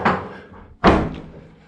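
The door of a Porsche 356 under restoration, with new seals fitted, shuts with two solid thunks, a softer first push followed by a louder, firm slam near the listener, then the sound settles quickly.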